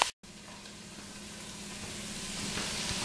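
Onion, garlic, and green and red peppers sauté in a pan for white bean chicken chili, giving a continuous, moderately quiet sizzle that builds slightly, after a brief cut at the start.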